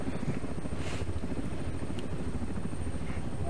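A military HH-60 helicopter in the FlightGear flight simulator game gives a steady, continuous rotor and engine drone that stays loud and even throughout, with no talking.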